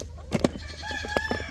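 Chickens in a backyard coop and run give short clucks and a brief crowing call, close and clear over a low steady background.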